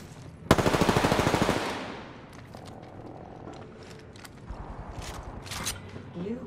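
Rapid automatic gunfire from a Spitfire weapon in a battle royale shooter game, a loud sustained burst of close shots followed by scattered quieter shots, clicks and mechanical sounds.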